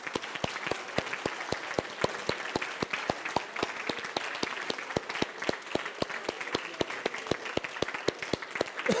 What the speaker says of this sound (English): applause to say thank you for your work with me